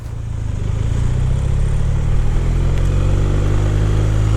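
A BMW R 1250 RT, a big heavy sport touring motorcycle, ridden through town: a steady, close engine drone that swells slightly at the start and then holds an even, continuous level.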